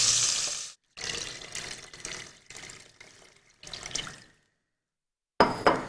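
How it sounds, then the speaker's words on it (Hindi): Water runs in several short pours into a cooking pot while a vegetable tikka karahi is prepared, splashing bursts broken by brief pauses, close and clear with no talking. "पानी आपने शामिल किया, इसको अच्छा सा मिक्स किया।"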